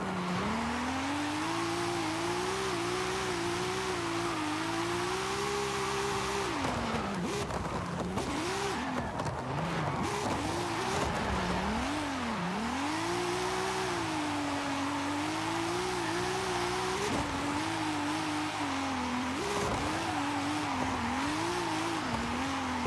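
Open Drift racing game car held in a long drift, engine droning and tyres squealing steadily at close range, with pitch dipping and rising through transitions in the middle before the slide settles again.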